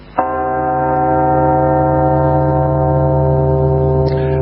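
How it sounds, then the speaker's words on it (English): A single deep bell strikes once and rings on, its rich overtones sustaining loudly with little decay, like a large church bell tolling. "The bell tolls for you"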